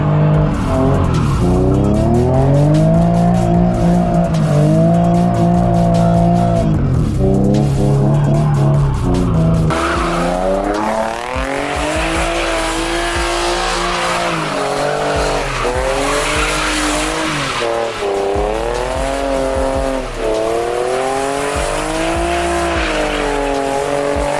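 A car spins donuts with repeated clutch kicks: the engine revs rise and fall in loud surging waves while tires squeal and skid continuously, close and harsh throughout.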